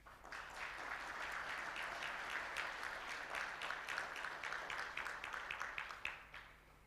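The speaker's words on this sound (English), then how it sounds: "Please, can we clap for her?" Audience applause at the launch event for a Pan-African programme to eradicate peste des petits ruminants, with steady clapping that swells, then thins into scattered individual claps before fading out.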